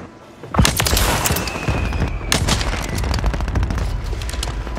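XRK Stalker sniper rifle firing in Warzone 3, a loud sharp crack followed by dense rolling gunfire and echoing booms that continue steadily, with no talk over it.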